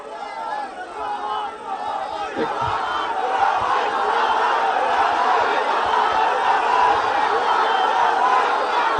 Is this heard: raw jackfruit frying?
no